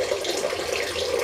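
Water runs briefly in a steady, trickling flow as it refills a gravity-fed quail drinking fountain.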